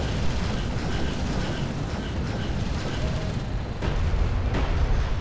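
Weapons fire striking units in the Homeworld: Deserts of Kharak strategy game, a dense, steady barrage of booms and impacts with a few sharper blasts, loud and continuous under a game voice.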